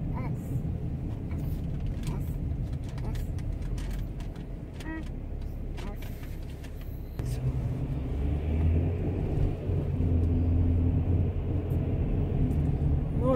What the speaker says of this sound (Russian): ну мы тоже в пробку попали